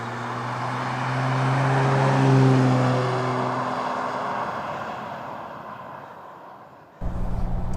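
A Jaguar V12 car fitted with a manual gearbox conversion drives along, its engine holding a steady loud drone with strong low harmonics that rise and fall through the clip, then shifting abruptly to a rougher tone near the end.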